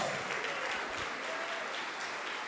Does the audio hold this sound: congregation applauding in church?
yes